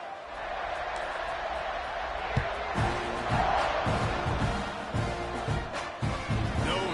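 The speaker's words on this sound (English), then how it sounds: "this crowd is feeling themselves after that last drive" A stadium crowd at a college football game between Mississippi State and Texas A&M roars steadily as the kickoff unit takes the field, with rhythmic thumping under the cheering and a commentator talking over it.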